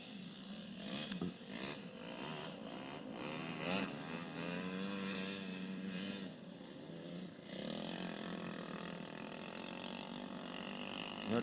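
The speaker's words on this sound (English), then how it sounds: "And I think that's Jessica Ryan with a horribly noisy go-kart." A grass go-kart that appears to have lost its muffler drones loudly on a racetrack, a rough raspy engine note rising and falling in pitch as it passes, steady throughout with no talk.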